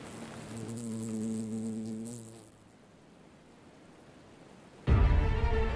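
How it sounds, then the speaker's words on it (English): Bugs buzz close around the ears while walking through a forest in the video game Unforgiving: A Northern Hymn, a loud droning hum for about two seconds that fades off, then a sudden louder burst near the end. "there's one thing that's more annoying than fidget spinners. And that is the sound of bugs flying in your ears"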